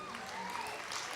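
At a Dartmouth commencement ceremony, a large outdoor crowd claps and cheers, a faint, steady roar of applause with a voice carrying over it.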